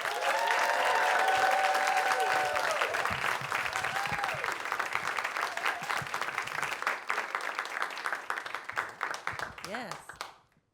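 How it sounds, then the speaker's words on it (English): Live audience applause for a storyteller at a science storytelling show, sustained clapping from a crowd with a few cheers, while a voice speaks over it before the claps thin and stop. "please give a very roaring round of applause to Darcy Little Badger."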